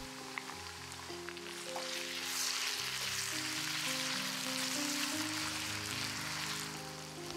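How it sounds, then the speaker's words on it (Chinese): Chopped chili peppers tossed into a wok of hot vegetable oil with ginger, sending up a steady loud crackling sizzle that swells and holds throughout, alone without speech. "倒入辣椒爆香"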